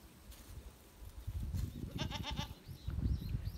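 A group of goats on a grassy spot in front of a home veranda in the city, with a few faint, wavering bleats over a low rumbling background and some muffled nearby movement.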